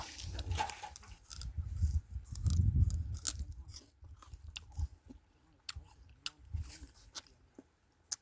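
Someone bites and chews sugarcane close to the mic, a run of loud crunching bites followed by softer, sporadic chewing and crisp snaps.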